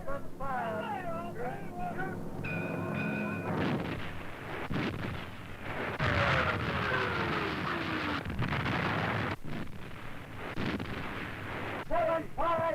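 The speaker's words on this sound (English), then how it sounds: "the great guns were bound to find their target" Heavy naval guns of a warship open fire at sea, a series of deep booming blasts over a busy, noisy wartime soundtrack with voices and music mixed in.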